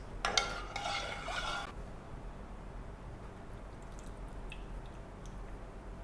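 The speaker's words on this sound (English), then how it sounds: "Now let's add the basil juice to it and the soaked chia seeds." Basil juice and soaked chia seeds being added to a pot for a vegan honey coconut basil pudding, a short wet pour and stirring with a clink of utensils, then quiet room tone.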